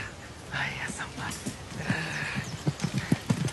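Horse hooves clip-clop in a Kyrgyz film scene, a rhythmic clatter of beats that grows louder and quicker toward the end, with soft, hushed voices underneath.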